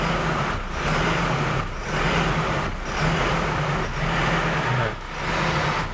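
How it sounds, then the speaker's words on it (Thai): A car engine runs under an electronic throttle controller, revving in repeated surges about once a second, each rise easing back before the next. It is loud and steady, with no talk over it. "ถ้าเรา ยิงบวกปุ๊บเนี่ยมันก็เหมือนเรากระแทกคันเร่งคือเครื่องมันจะเร่งหนัก"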